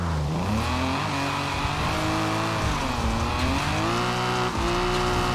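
A car drifting in Forza Horizon 4, engine held high and wavering through repeated rev swells, with a steady wash of tire squeal underneath, loud and continuous throughout.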